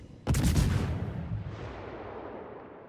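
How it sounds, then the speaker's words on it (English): The destroyer Yūgumo fires a salvo in the naval combat game World of Warships: one loud, close booming blast that rolls off into a long fading rumble. "right now I just wanna shoot my guns a little bit more"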